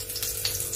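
Bay leaf dropped into two spoons of hot oil in a wok, giving a close, steady crackling sizzle with a few brighter spits.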